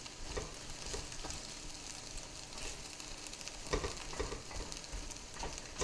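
Takoyaki batter balls with octopus frying in a pan, a soft, steady sizzle with scattered small crackles and pops, fairly faint throughout.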